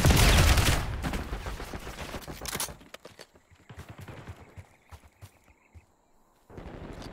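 Gunfire from a hostile long gun in Call of Duty Black Ops 6, loud dense bursts at first, then scattered sharp shots and distant pops over a quieter battlefield, with a voice talking briefly.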